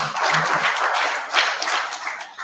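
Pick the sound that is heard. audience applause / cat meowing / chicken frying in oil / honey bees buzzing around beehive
audience applause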